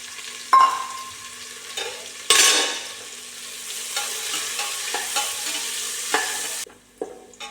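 Sliced onions frying in hot ghee in a pan after raisins, a steady soft sizzle with occasional scraping stirs and clinks of a spoon against the vessel.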